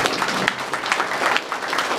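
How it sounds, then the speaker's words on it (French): At a town medal and diploma ceremony during the local fair, the crowd gives a steady round of applause to blood donors, continuous, fairly close clapping with no speech over it. "je crois qu'on peut encore une fois vous remercier et vous applaudir tous"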